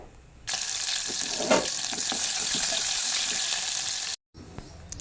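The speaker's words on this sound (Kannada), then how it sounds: "ಒಂದು ಪಾತ್ರೆನ ಬಿಸಿ ಮಾಡೋಕ್ಕಿಟ್ಟು ಅದಕ್ಕೆ 1 ಟೇಬಲ್ ಸ್ಪೂನಷ್ಟು ಎಣ್ಣೆ ಮತ್ತು ಒಂದು ಉದ್ದದಾಗಿ ಹೆಚ್ಚಿರೋ ಈರುಳ್ಳಿನ ಹಾಕಬೇಕು ಒಗ್ಗರಣೆಗೆ" Long-sliced onion drops into a tablespoon of hot oil in a pot for tempering, setting off a sudden loud, dense sizzle that holds steady for several seconds before cutting off abruptly.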